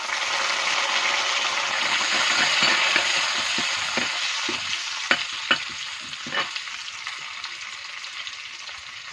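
Curry leaves fry in a pan for a Malayali fish curry, giving a loud steady hiss of sizzling oil with a few scattered clicks and scrapes of stirring toward the end.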